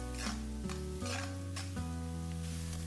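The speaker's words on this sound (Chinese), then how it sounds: "油热以后下入葱姜蒜洋葱末炒出香味" Scallion, ginger, garlic and minced onion stir-fry in hot oil, a steady sizzle broken by several scraping strokes of a spatula against the wok over a low, sustained tonal hum.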